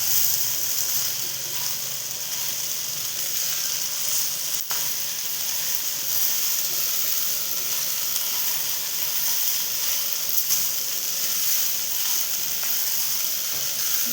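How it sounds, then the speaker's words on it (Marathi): Crumbled idli pieces fry in a pan with onion, tomato and masala for idli upma, giving a steady, even sizzle with soft crackle that runs throughout without talk. "त्यात आपण आता टाकतो इडली. इडली आपल्याला एकत्र करून घ्यायची चांगल्या प्रकारे."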